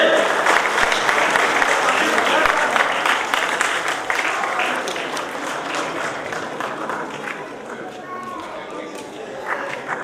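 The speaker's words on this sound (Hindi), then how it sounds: "भाई जोरदार तालियां बजाते रहिए" Sustained crowd applause at an Ambedkar Jayanti award ceremony, dense, steady clapping that fills the whole stretch and slowly eases a little toward the end.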